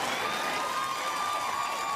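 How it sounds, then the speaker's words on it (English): A studio audience at a talk show cheers and applauds, a dense wash of crowd noise holding steady throughout at moderate loudness. "Do not cheer that behavior."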